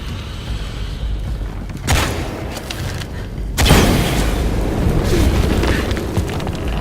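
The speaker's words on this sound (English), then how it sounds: "Exploding that gas might move the pendulum." Gas explosions in Shadow of the Tomb Raider, inside a massive forge: two loud booming blasts a couple of seconds apart, the second followed by a sustained roaring rumble.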